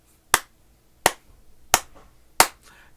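Four sharp hand claps land at an even, steady beat, each crisp and close with a short decay, alone against near silence.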